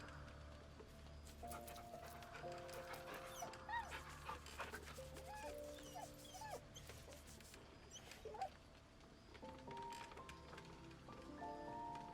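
Scratch, the dog companion in Baldur's Gate 3, gives repeated high, thin whimpers and yips over soft game ambience, the cries coming in short clusters throughout.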